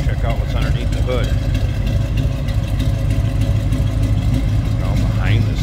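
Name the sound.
1979 Chevrolet Malibu Coupe engine starting and running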